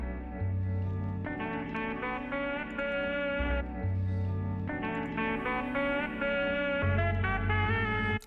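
Unprocessed sample from a hip-hop production project: sustained harmonic chords with bass notes that change in blocks, playing steadily at moderate level with no voices.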